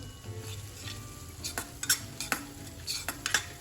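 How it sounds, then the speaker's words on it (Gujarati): A thick bottle gourd pav bhaji mixture with masala and salt gets stirred in a pan, giving soft scraping strokes and light sizzles at a steady, close pace, with no one talking. "તો આ બધી વસ્તુ આપણે એકદમ સરસ રીતે મિક્સ કરી લઈશું"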